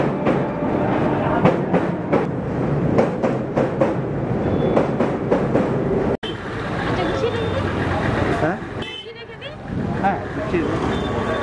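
A train at a busy railway station in Kolkata, its rumbling carriages and rail clatter filling the scene beneath a crowd's background chatter, loud and close, with a sharp break partway through.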